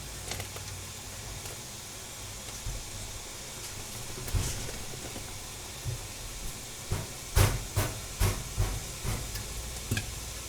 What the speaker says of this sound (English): So I have some boiling water